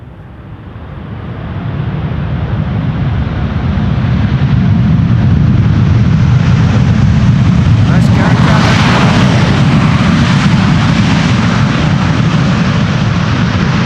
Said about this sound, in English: Here we have American Airlines Flight 204, arrival from Philadelphia in Pennsylvania.